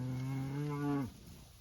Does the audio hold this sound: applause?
no